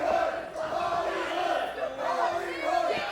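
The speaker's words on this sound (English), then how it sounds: "Crowd chanting Hollywood" A wrestling arena crowd chants in unison at Juggalo Championship Wrestling, a loud rhythmic group chant rising and falling across the hall with no other voices over it.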